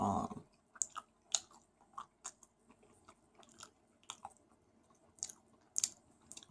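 Swedish Easter candy is chewed close to the microphone, a series of moist crunchy bites and squishy chews in an irregular rhythm against a quiet background.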